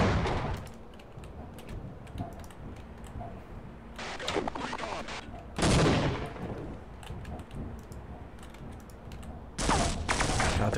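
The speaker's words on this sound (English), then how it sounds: "They basically shoot up the vent, and there's like holes appearing all over the place" Soldiers in Half-Life fire guns into a vent in several rapid bursts, loud crackling volleys separated by quieter stretches while a voice talks over the action.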